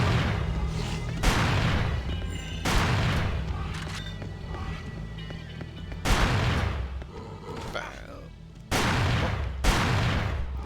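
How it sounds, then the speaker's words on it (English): Shotgun blasts in Hunter: The Reckoning, four loud booming shots spaced a few seconds apart, each decaying under a busy game soundtrack. "considering how many enemies there are, we'll take out the shotgun"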